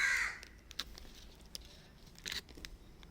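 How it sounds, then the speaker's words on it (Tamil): A crow caws several times nearby near a dog's food bowl, loud harsh calls at the start and again midway, with quieter rustling and pecking sounds in between. "அப்புறம் எதுக்கு காக்கா வருது"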